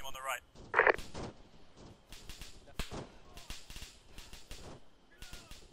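Incoming gunfire in a combat game mission: sharp, whip-like cracks arrive in scattered single shots and short clusters, fairly close, mixed in with voices talking over a radio.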